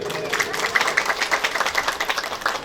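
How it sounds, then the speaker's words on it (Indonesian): Women in an audience clap together at a Maulid Nabi gathering in a village in Pandeglang, a dense, steady patter of many hands filling the space for a few seconds without talk. "saya minta tepuk tangannya khusus ibu-ibu"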